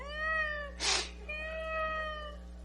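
A man imitates a cat, giving two drawn-out, plaintive meows split by a short breathy burst, close and fairly quiet over a low steady hum.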